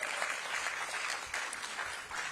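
An audience at a youth summer employment program event applauds steadily, a dense even patter of many hands clapping with no voices over it.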